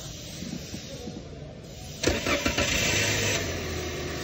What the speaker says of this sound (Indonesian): kemudian ini saya cranking atau saya starter